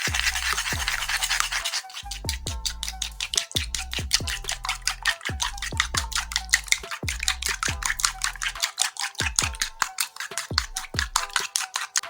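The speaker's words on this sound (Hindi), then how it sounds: "शुगर को और अंडे की सफ़ेदी को मिक्स करना है, अच्छी तरह इसको हिलाना है और मिक्स करना है।" Sugar and egg white are stirred together in a bowl, producing a fast, regular series of close scraping and tapping strokes that keep a steady rhythm from start to finish without any speech.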